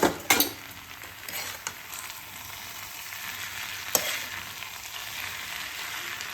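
Vegetables for a healthy, protein-rich veg recipe fry in a pan while being stirred, a steady close sizzle with a few sharper scrapes and clatters near the start and one near the end.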